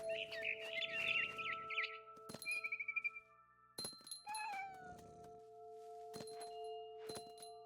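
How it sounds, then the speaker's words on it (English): A cat in the video game What Remains of Edith Finch gives short, rising meows in a few separate bursts amid soft in-game rustling and ambient tones. "I was a cat."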